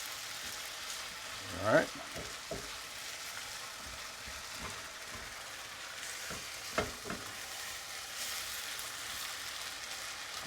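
Garlic and ginger frying in a pan for Indian butter chicken, a steady soft sizzle with a few sharper clinks and scrapes of stirring, and a brief spoken remark early on.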